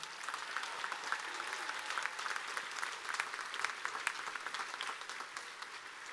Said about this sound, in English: let's have one last round of applause for all of our graduates today